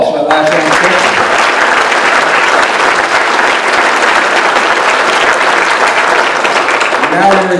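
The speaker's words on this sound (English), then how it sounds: "Round of applause for that last" An audience at a sheriff's candidate forum claps loudly and continuously, with dense close applause filling the moment and brief traces of voices at the start and end.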